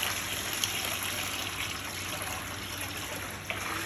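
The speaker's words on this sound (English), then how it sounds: "Now I'm gonna pour to the bucket." Water poured into a clean bucket, making a continuous quiet gushing trickle that runs steadily throughout, with a couple of faint knocks and no talking.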